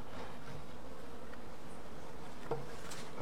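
Honey bees buzz steadily inside a young hive of a Buckfast F2 strain, built from frames of brood and stores, a continuous close insect drone with a few brief clicks near the end.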